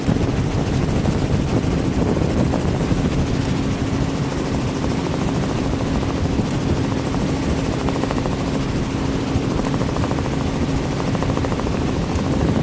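Steady helicopter cabin noise during a flight over sandy coastal flats: a loud, unbroken rotor and engine drone with a constant low hum, and no voices.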